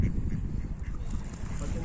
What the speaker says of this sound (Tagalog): Napakaraming itik dito